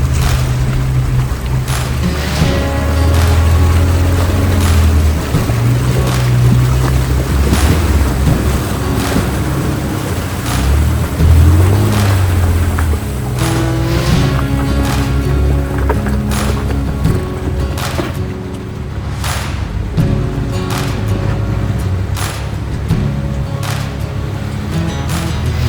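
An overland vehicle drives through a water crossing on a tight Ozark trail. Its engine rumbles loud and close, with water churning and sloshing continuously for the whole stretch.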